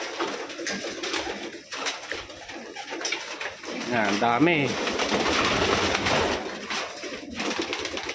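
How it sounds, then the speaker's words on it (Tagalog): Pigeons cooing and fluttering among a large flock of racing pigeons at a loft, continuous bird sounds under a man's speech. "Ang daming ibon."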